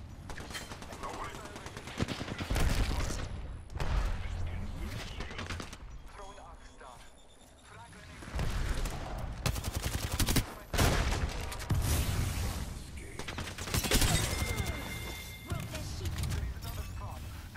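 Heavy gunfire in Apex Legends, with dense volleys and bursts of automatic fire that come and go over the span, loud and near at times, mixed with mechanical clicks while a voice calls out.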